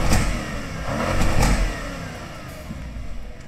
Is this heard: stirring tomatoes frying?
no